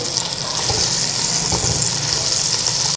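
Onions frying in hot oil for maska biryani give off a loud, steady hissing sizzle that stays dense and even throughout before cutting off abruptly.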